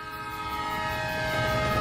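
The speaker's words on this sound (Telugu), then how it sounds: "ట్రైన్ వచ్చింది" A train arrives at a station, a steady rumble of rolling wagons mixed with a sustained horn tone, slowly growing louder at moderate distance; no speech.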